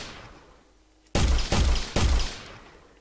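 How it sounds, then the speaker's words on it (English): Three loud, close Glock handgun shots in an Unreal Engine video game, fired in quick succession with a heavy broadband crack and short decay, no voices. "This is the Glock. It's a handgun. It's slow speed on the bullets, 375 meters per second, and there's some drag applied."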